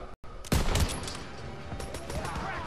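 A loud burst of rapid gunfire in a Call of Duty WWII battle, close and sharp, followed by continued scattered shots and echoing battlefield noise.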